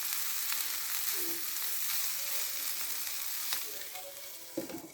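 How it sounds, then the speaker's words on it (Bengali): Capsicum and winter vegetables sauté in a pan for vegetable noodles, producing a soft, steady sizzling hiss at low volume with a couple of faint stirring knocks near the end. "এখন ক্যাপসিকাম গুলো দিয়ে দেব। 1 মিনিটের মতো সটে করে নেব সবকিছু।"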